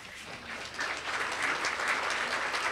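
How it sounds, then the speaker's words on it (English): A banquet audience at a high school awards event applauding, clapping swelling after a moment into a sustained, moderately distant round. "A big applause."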